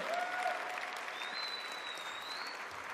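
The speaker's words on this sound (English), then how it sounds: "Give yourselves another round of applause for that" Graduating class at a graduation ceremony applauding themselves, a steady dense wash of clapping from a large crowd filling the whole moment, with a faint voice or whistle-like tone drifting over it.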